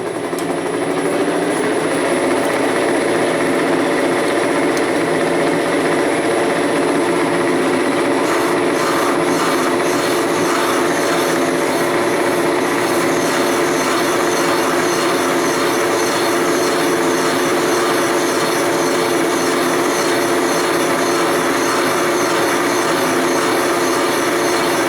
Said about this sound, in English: So I'm going to turn my machine on, and I'm just going to cut.